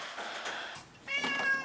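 A cat meows a few times, fairly close, over a noisy indoor background. It is brought along by a woman heading out with a baby stroller and heavy bags.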